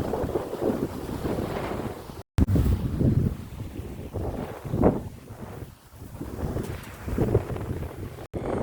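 Gusty wind buffets the microphone at a beach in Mombasa, with waves washing in underneath; a steady roar that swells and dips, broken by two brief dropouts.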